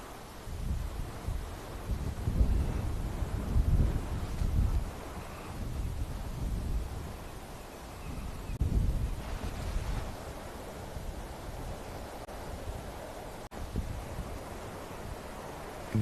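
Wind buffets a microphone during a live safari drive, producing low rumbling gusts that rise and fall across the stretch, with no talk.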